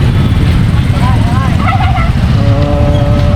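Motorized tricycles passing on a busy road, their engines a loud, continuous rumbling hum close by, with someone talking over the traffic.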